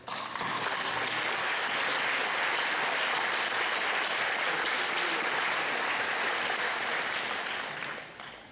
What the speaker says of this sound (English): we thank you all and owe you all a warm round of applause